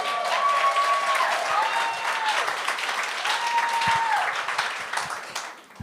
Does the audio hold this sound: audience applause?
yes